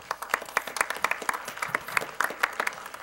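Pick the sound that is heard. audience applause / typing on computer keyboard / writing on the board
audience applause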